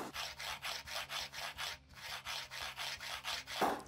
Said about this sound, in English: One edge rests on the fretboard like so, and then the file is at an angle to get a bevel